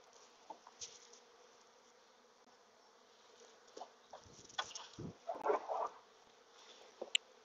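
A steady, close buzzing of honeybees droning throughout during an autumn hive inspection, with occasional rustles and bumps nearby and a few louder flurries toward the end.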